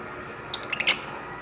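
Several short bird calls in an aviary, a brief cluster of sharp chirps and squawks over quiet background hiss, moderately close.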